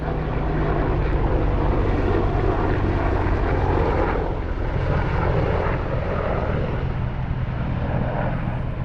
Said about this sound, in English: Military choppers.